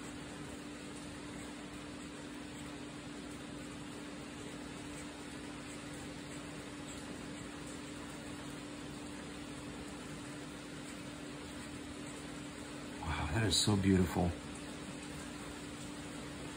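Soft, distant rain comes in through an open kitchen window as a faint, steady hiss with a low hum beneath, and a brief voice speaks near the end.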